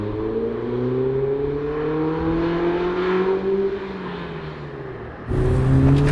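A car engine revs hard at high RPM on a mountain drive, a loud, steady climbing whine that dips briefly and then surges again close by, with no talking.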